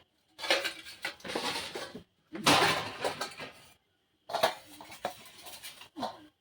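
A bowl and plates are handled for serving rice in a home kitchen, with clattering ceramic and metal knocks in several short bursts separated by silences, close and fairly loud, with no talk.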